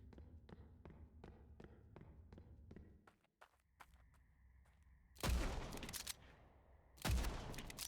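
Guns test-fired in the video game Blood West, a steady run of evenly spaced single shots followed by two loud, heavy blasts with a lingering tail.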